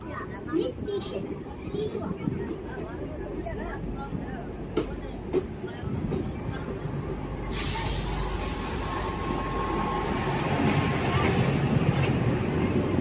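A Howrah–Masagram local passenger train runs along the line with a continuous rolling rumble and rattle of the carriages, which grows louder and gains a steady hiss partway through.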